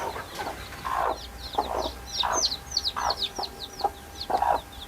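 Chickens on a small home poultry farm give repeated close clucks and short calls, with faint bird chirps behind them and no speech.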